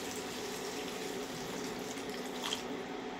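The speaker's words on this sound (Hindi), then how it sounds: "इसको कुक करने के लिए मैं थोड़ा सा पानी ऐड कर देती हूँ," Water pouring steadily from a tap into a cooking pan for a matar mushroom curry, a continuous close splashing stream with kitchen background noise.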